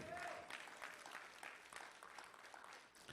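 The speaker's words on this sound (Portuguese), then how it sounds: "Pode aplaudir primeiro" A church congregation claps steadily, forming a continuous wash of applause at low volume that stays even from start to finish.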